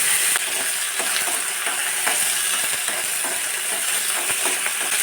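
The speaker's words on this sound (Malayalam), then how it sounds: "എണ്ണ ചൂടായി കടുകിട്ട് കൊടുക്കാം. ഇനി ഉണക്കമുളകും കറിവേപ്പിലയും." Mustard seeds, dried red chillies and curry leaves frying in hot coconut oil, a steady close crackle and sizzle with sharp pops scattered throughout and no voices.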